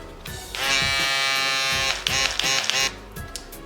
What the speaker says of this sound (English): if you're gonna buy an electric shaver, I highly recommend this bad boy, the Wah Finale